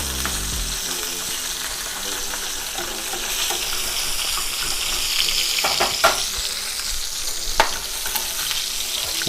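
Salmon fillet searing skin-side down in a hot pan until crispy, a continuous close hiss with a few louder pops and scrapes near the end, fairly loud and without speech.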